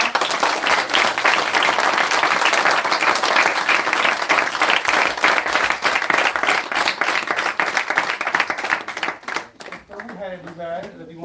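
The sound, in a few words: audience applause at a lecture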